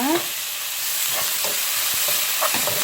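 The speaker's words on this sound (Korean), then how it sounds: "이렇게 볶으면 됩니다." Japchae ingredients stir-fried over high heat in a pan, a steady sizzle with scattered scraping and tossing strokes of the utensil, close and continuous with no talk.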